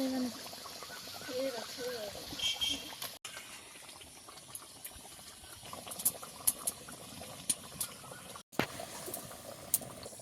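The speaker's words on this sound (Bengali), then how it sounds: "ঝোল ভালোভাবে ফুটে গেছে, ভেজে রাখা মাছ দিয়ে দেবো।" Fish curry gravy bubbling at a steady boil in a pan, a soft continuous simmering hiss broken by sharp pops and clicks, with faint background voices.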